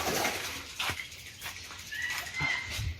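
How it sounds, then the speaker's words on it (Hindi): An Australian parrot flaps its wings in short, close bursts at a Sai Palkhi halt, the flutters loud and repeated against steady outdoor background noise. "ये देखिए एक तोते, ऑस्ट्रेलिया तोते।"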